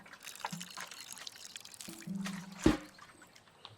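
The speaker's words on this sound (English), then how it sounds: "I guess I have to water you." Water pours into a plant pot in the video game Botany Manor, a short trickle and splash with a brief louder splash near the end, quiet and close.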